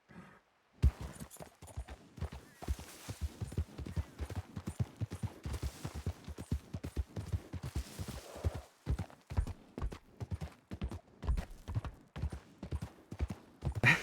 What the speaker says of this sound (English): They could have also been following the sound of my horse.